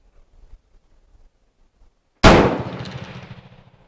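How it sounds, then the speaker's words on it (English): A single loud, close rifle shot at a 100-yard outdoor range cracks sharply after a quiet stretch and then rings out in a decaying echo. "we're shooting at 100 yards"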